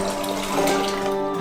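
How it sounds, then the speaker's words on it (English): Tap water runs steadily into a saucepan with a ceramic plate in the bottom, a continuous close splashing fill with a faintly rising ringing pitch. "and fill it with water"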